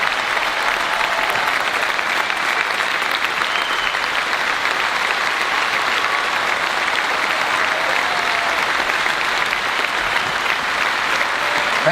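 Big crowd at a Quebec gathering gives a long, steady ovation for school-system workers, thick continuous clapping at an even, loud level throughout.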